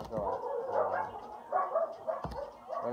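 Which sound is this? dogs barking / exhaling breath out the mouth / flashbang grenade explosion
dogs barking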